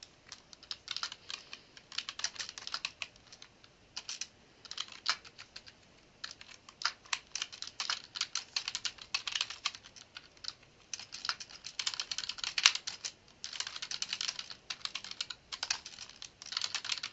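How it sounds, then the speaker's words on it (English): Fingers type on a computer keyboard while entering text in Word 2007, a close, quiet run of rapid key clicks in bursts separated by brief pauses. "Now watch as I type the rest of this reference."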